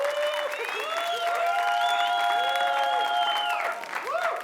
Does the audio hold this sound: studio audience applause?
yes